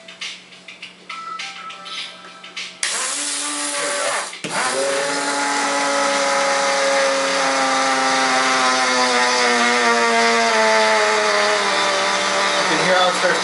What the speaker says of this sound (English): now I'm going to grind this for probably about a minute